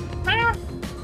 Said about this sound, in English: Oh, okay, now I noticed that it's just a cat